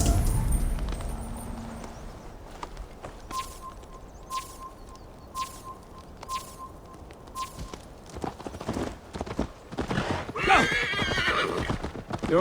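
A horse whinnies and its hooves clip-clop in Assassin's Creed Valhalla, with a clear neigh, then a run of evenly spaced hoof strikes and a busier clatter of movement near the end.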